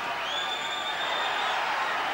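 Boxing arena crowd during a title fight roaring and cheering in a steady, loud wash of voices with a few whoops rising above it.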